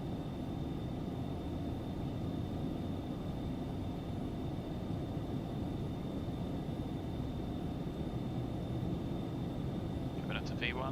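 An Aerobask Phenom 300 business jet in the X-Plane 11 flight simulator rolls down the runway at takeoff power, a steady broadband engine roar held at constant level throughout, with a brief faint chirp near the end.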